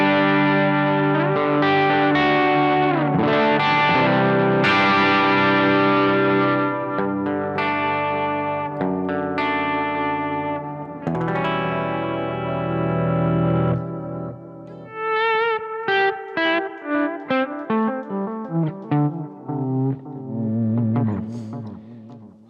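An electric guitar runs through echo and chorus effect pedals, giving a spacey sound: loud, sustained, washy chords with long repeating echoes, then choppier picked notes toward the end, close and without talk.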